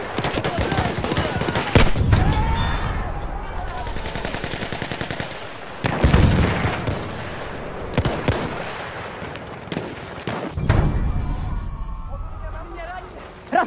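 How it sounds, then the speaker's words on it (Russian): An enemy machine gun fires rapid, crackling bursts amid a noisy battle soundscape, with sharp individual shots and heavier thuds scattered throughout, while voices shout over the gunfire. "Вражеский пулемет!"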